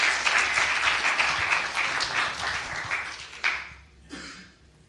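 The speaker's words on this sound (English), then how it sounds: "can you give a round of applause for our two beautiful people here?" A crowd at a youth HIV services community event claps loudly and steadily, then thins out and fades to scattered last claps before falling quiet.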